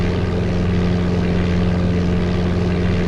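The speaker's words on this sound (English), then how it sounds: "the engine sound is definitely the same one used on the Amiga" Propeller aircraft engine sound from the Flight Simulator 95 game, a steady loud droning hum with a rapid buzzing pulse, unchanging and continuous with no voices.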